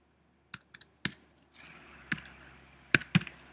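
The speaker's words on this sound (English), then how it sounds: "You'll just have to type these numbers in and returns." Scattered clicks and taps on a computer keyboard as numbers are entered into a drilling calculator program, a few sharp keystrokes spaced apart over a soft background hiss, no voices.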